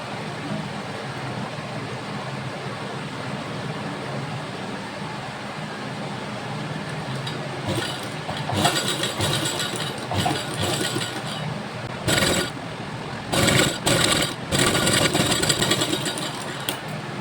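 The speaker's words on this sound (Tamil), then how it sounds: "இப்போ இங்கிருந்தே நம்ம ஸ்டிச் ஆரம்பிக்க போகிறோம்" A sewing machine stitching old saree fabric runs in short, uneven bursts of rapid mechanical whirring over a quiet room hum, with brief pauses between runs in the second half.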